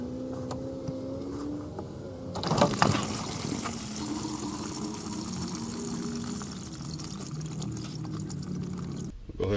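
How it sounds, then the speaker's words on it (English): Coolant pours out of the lower radiator hose of a Chevrolet Colorado 3.5L into a catch container, a steady gushing splash that starts abruptly and runs on, loud and close. "you're going to go ahead and just take off the lower radiator hose and try to catch as much fluid as you can"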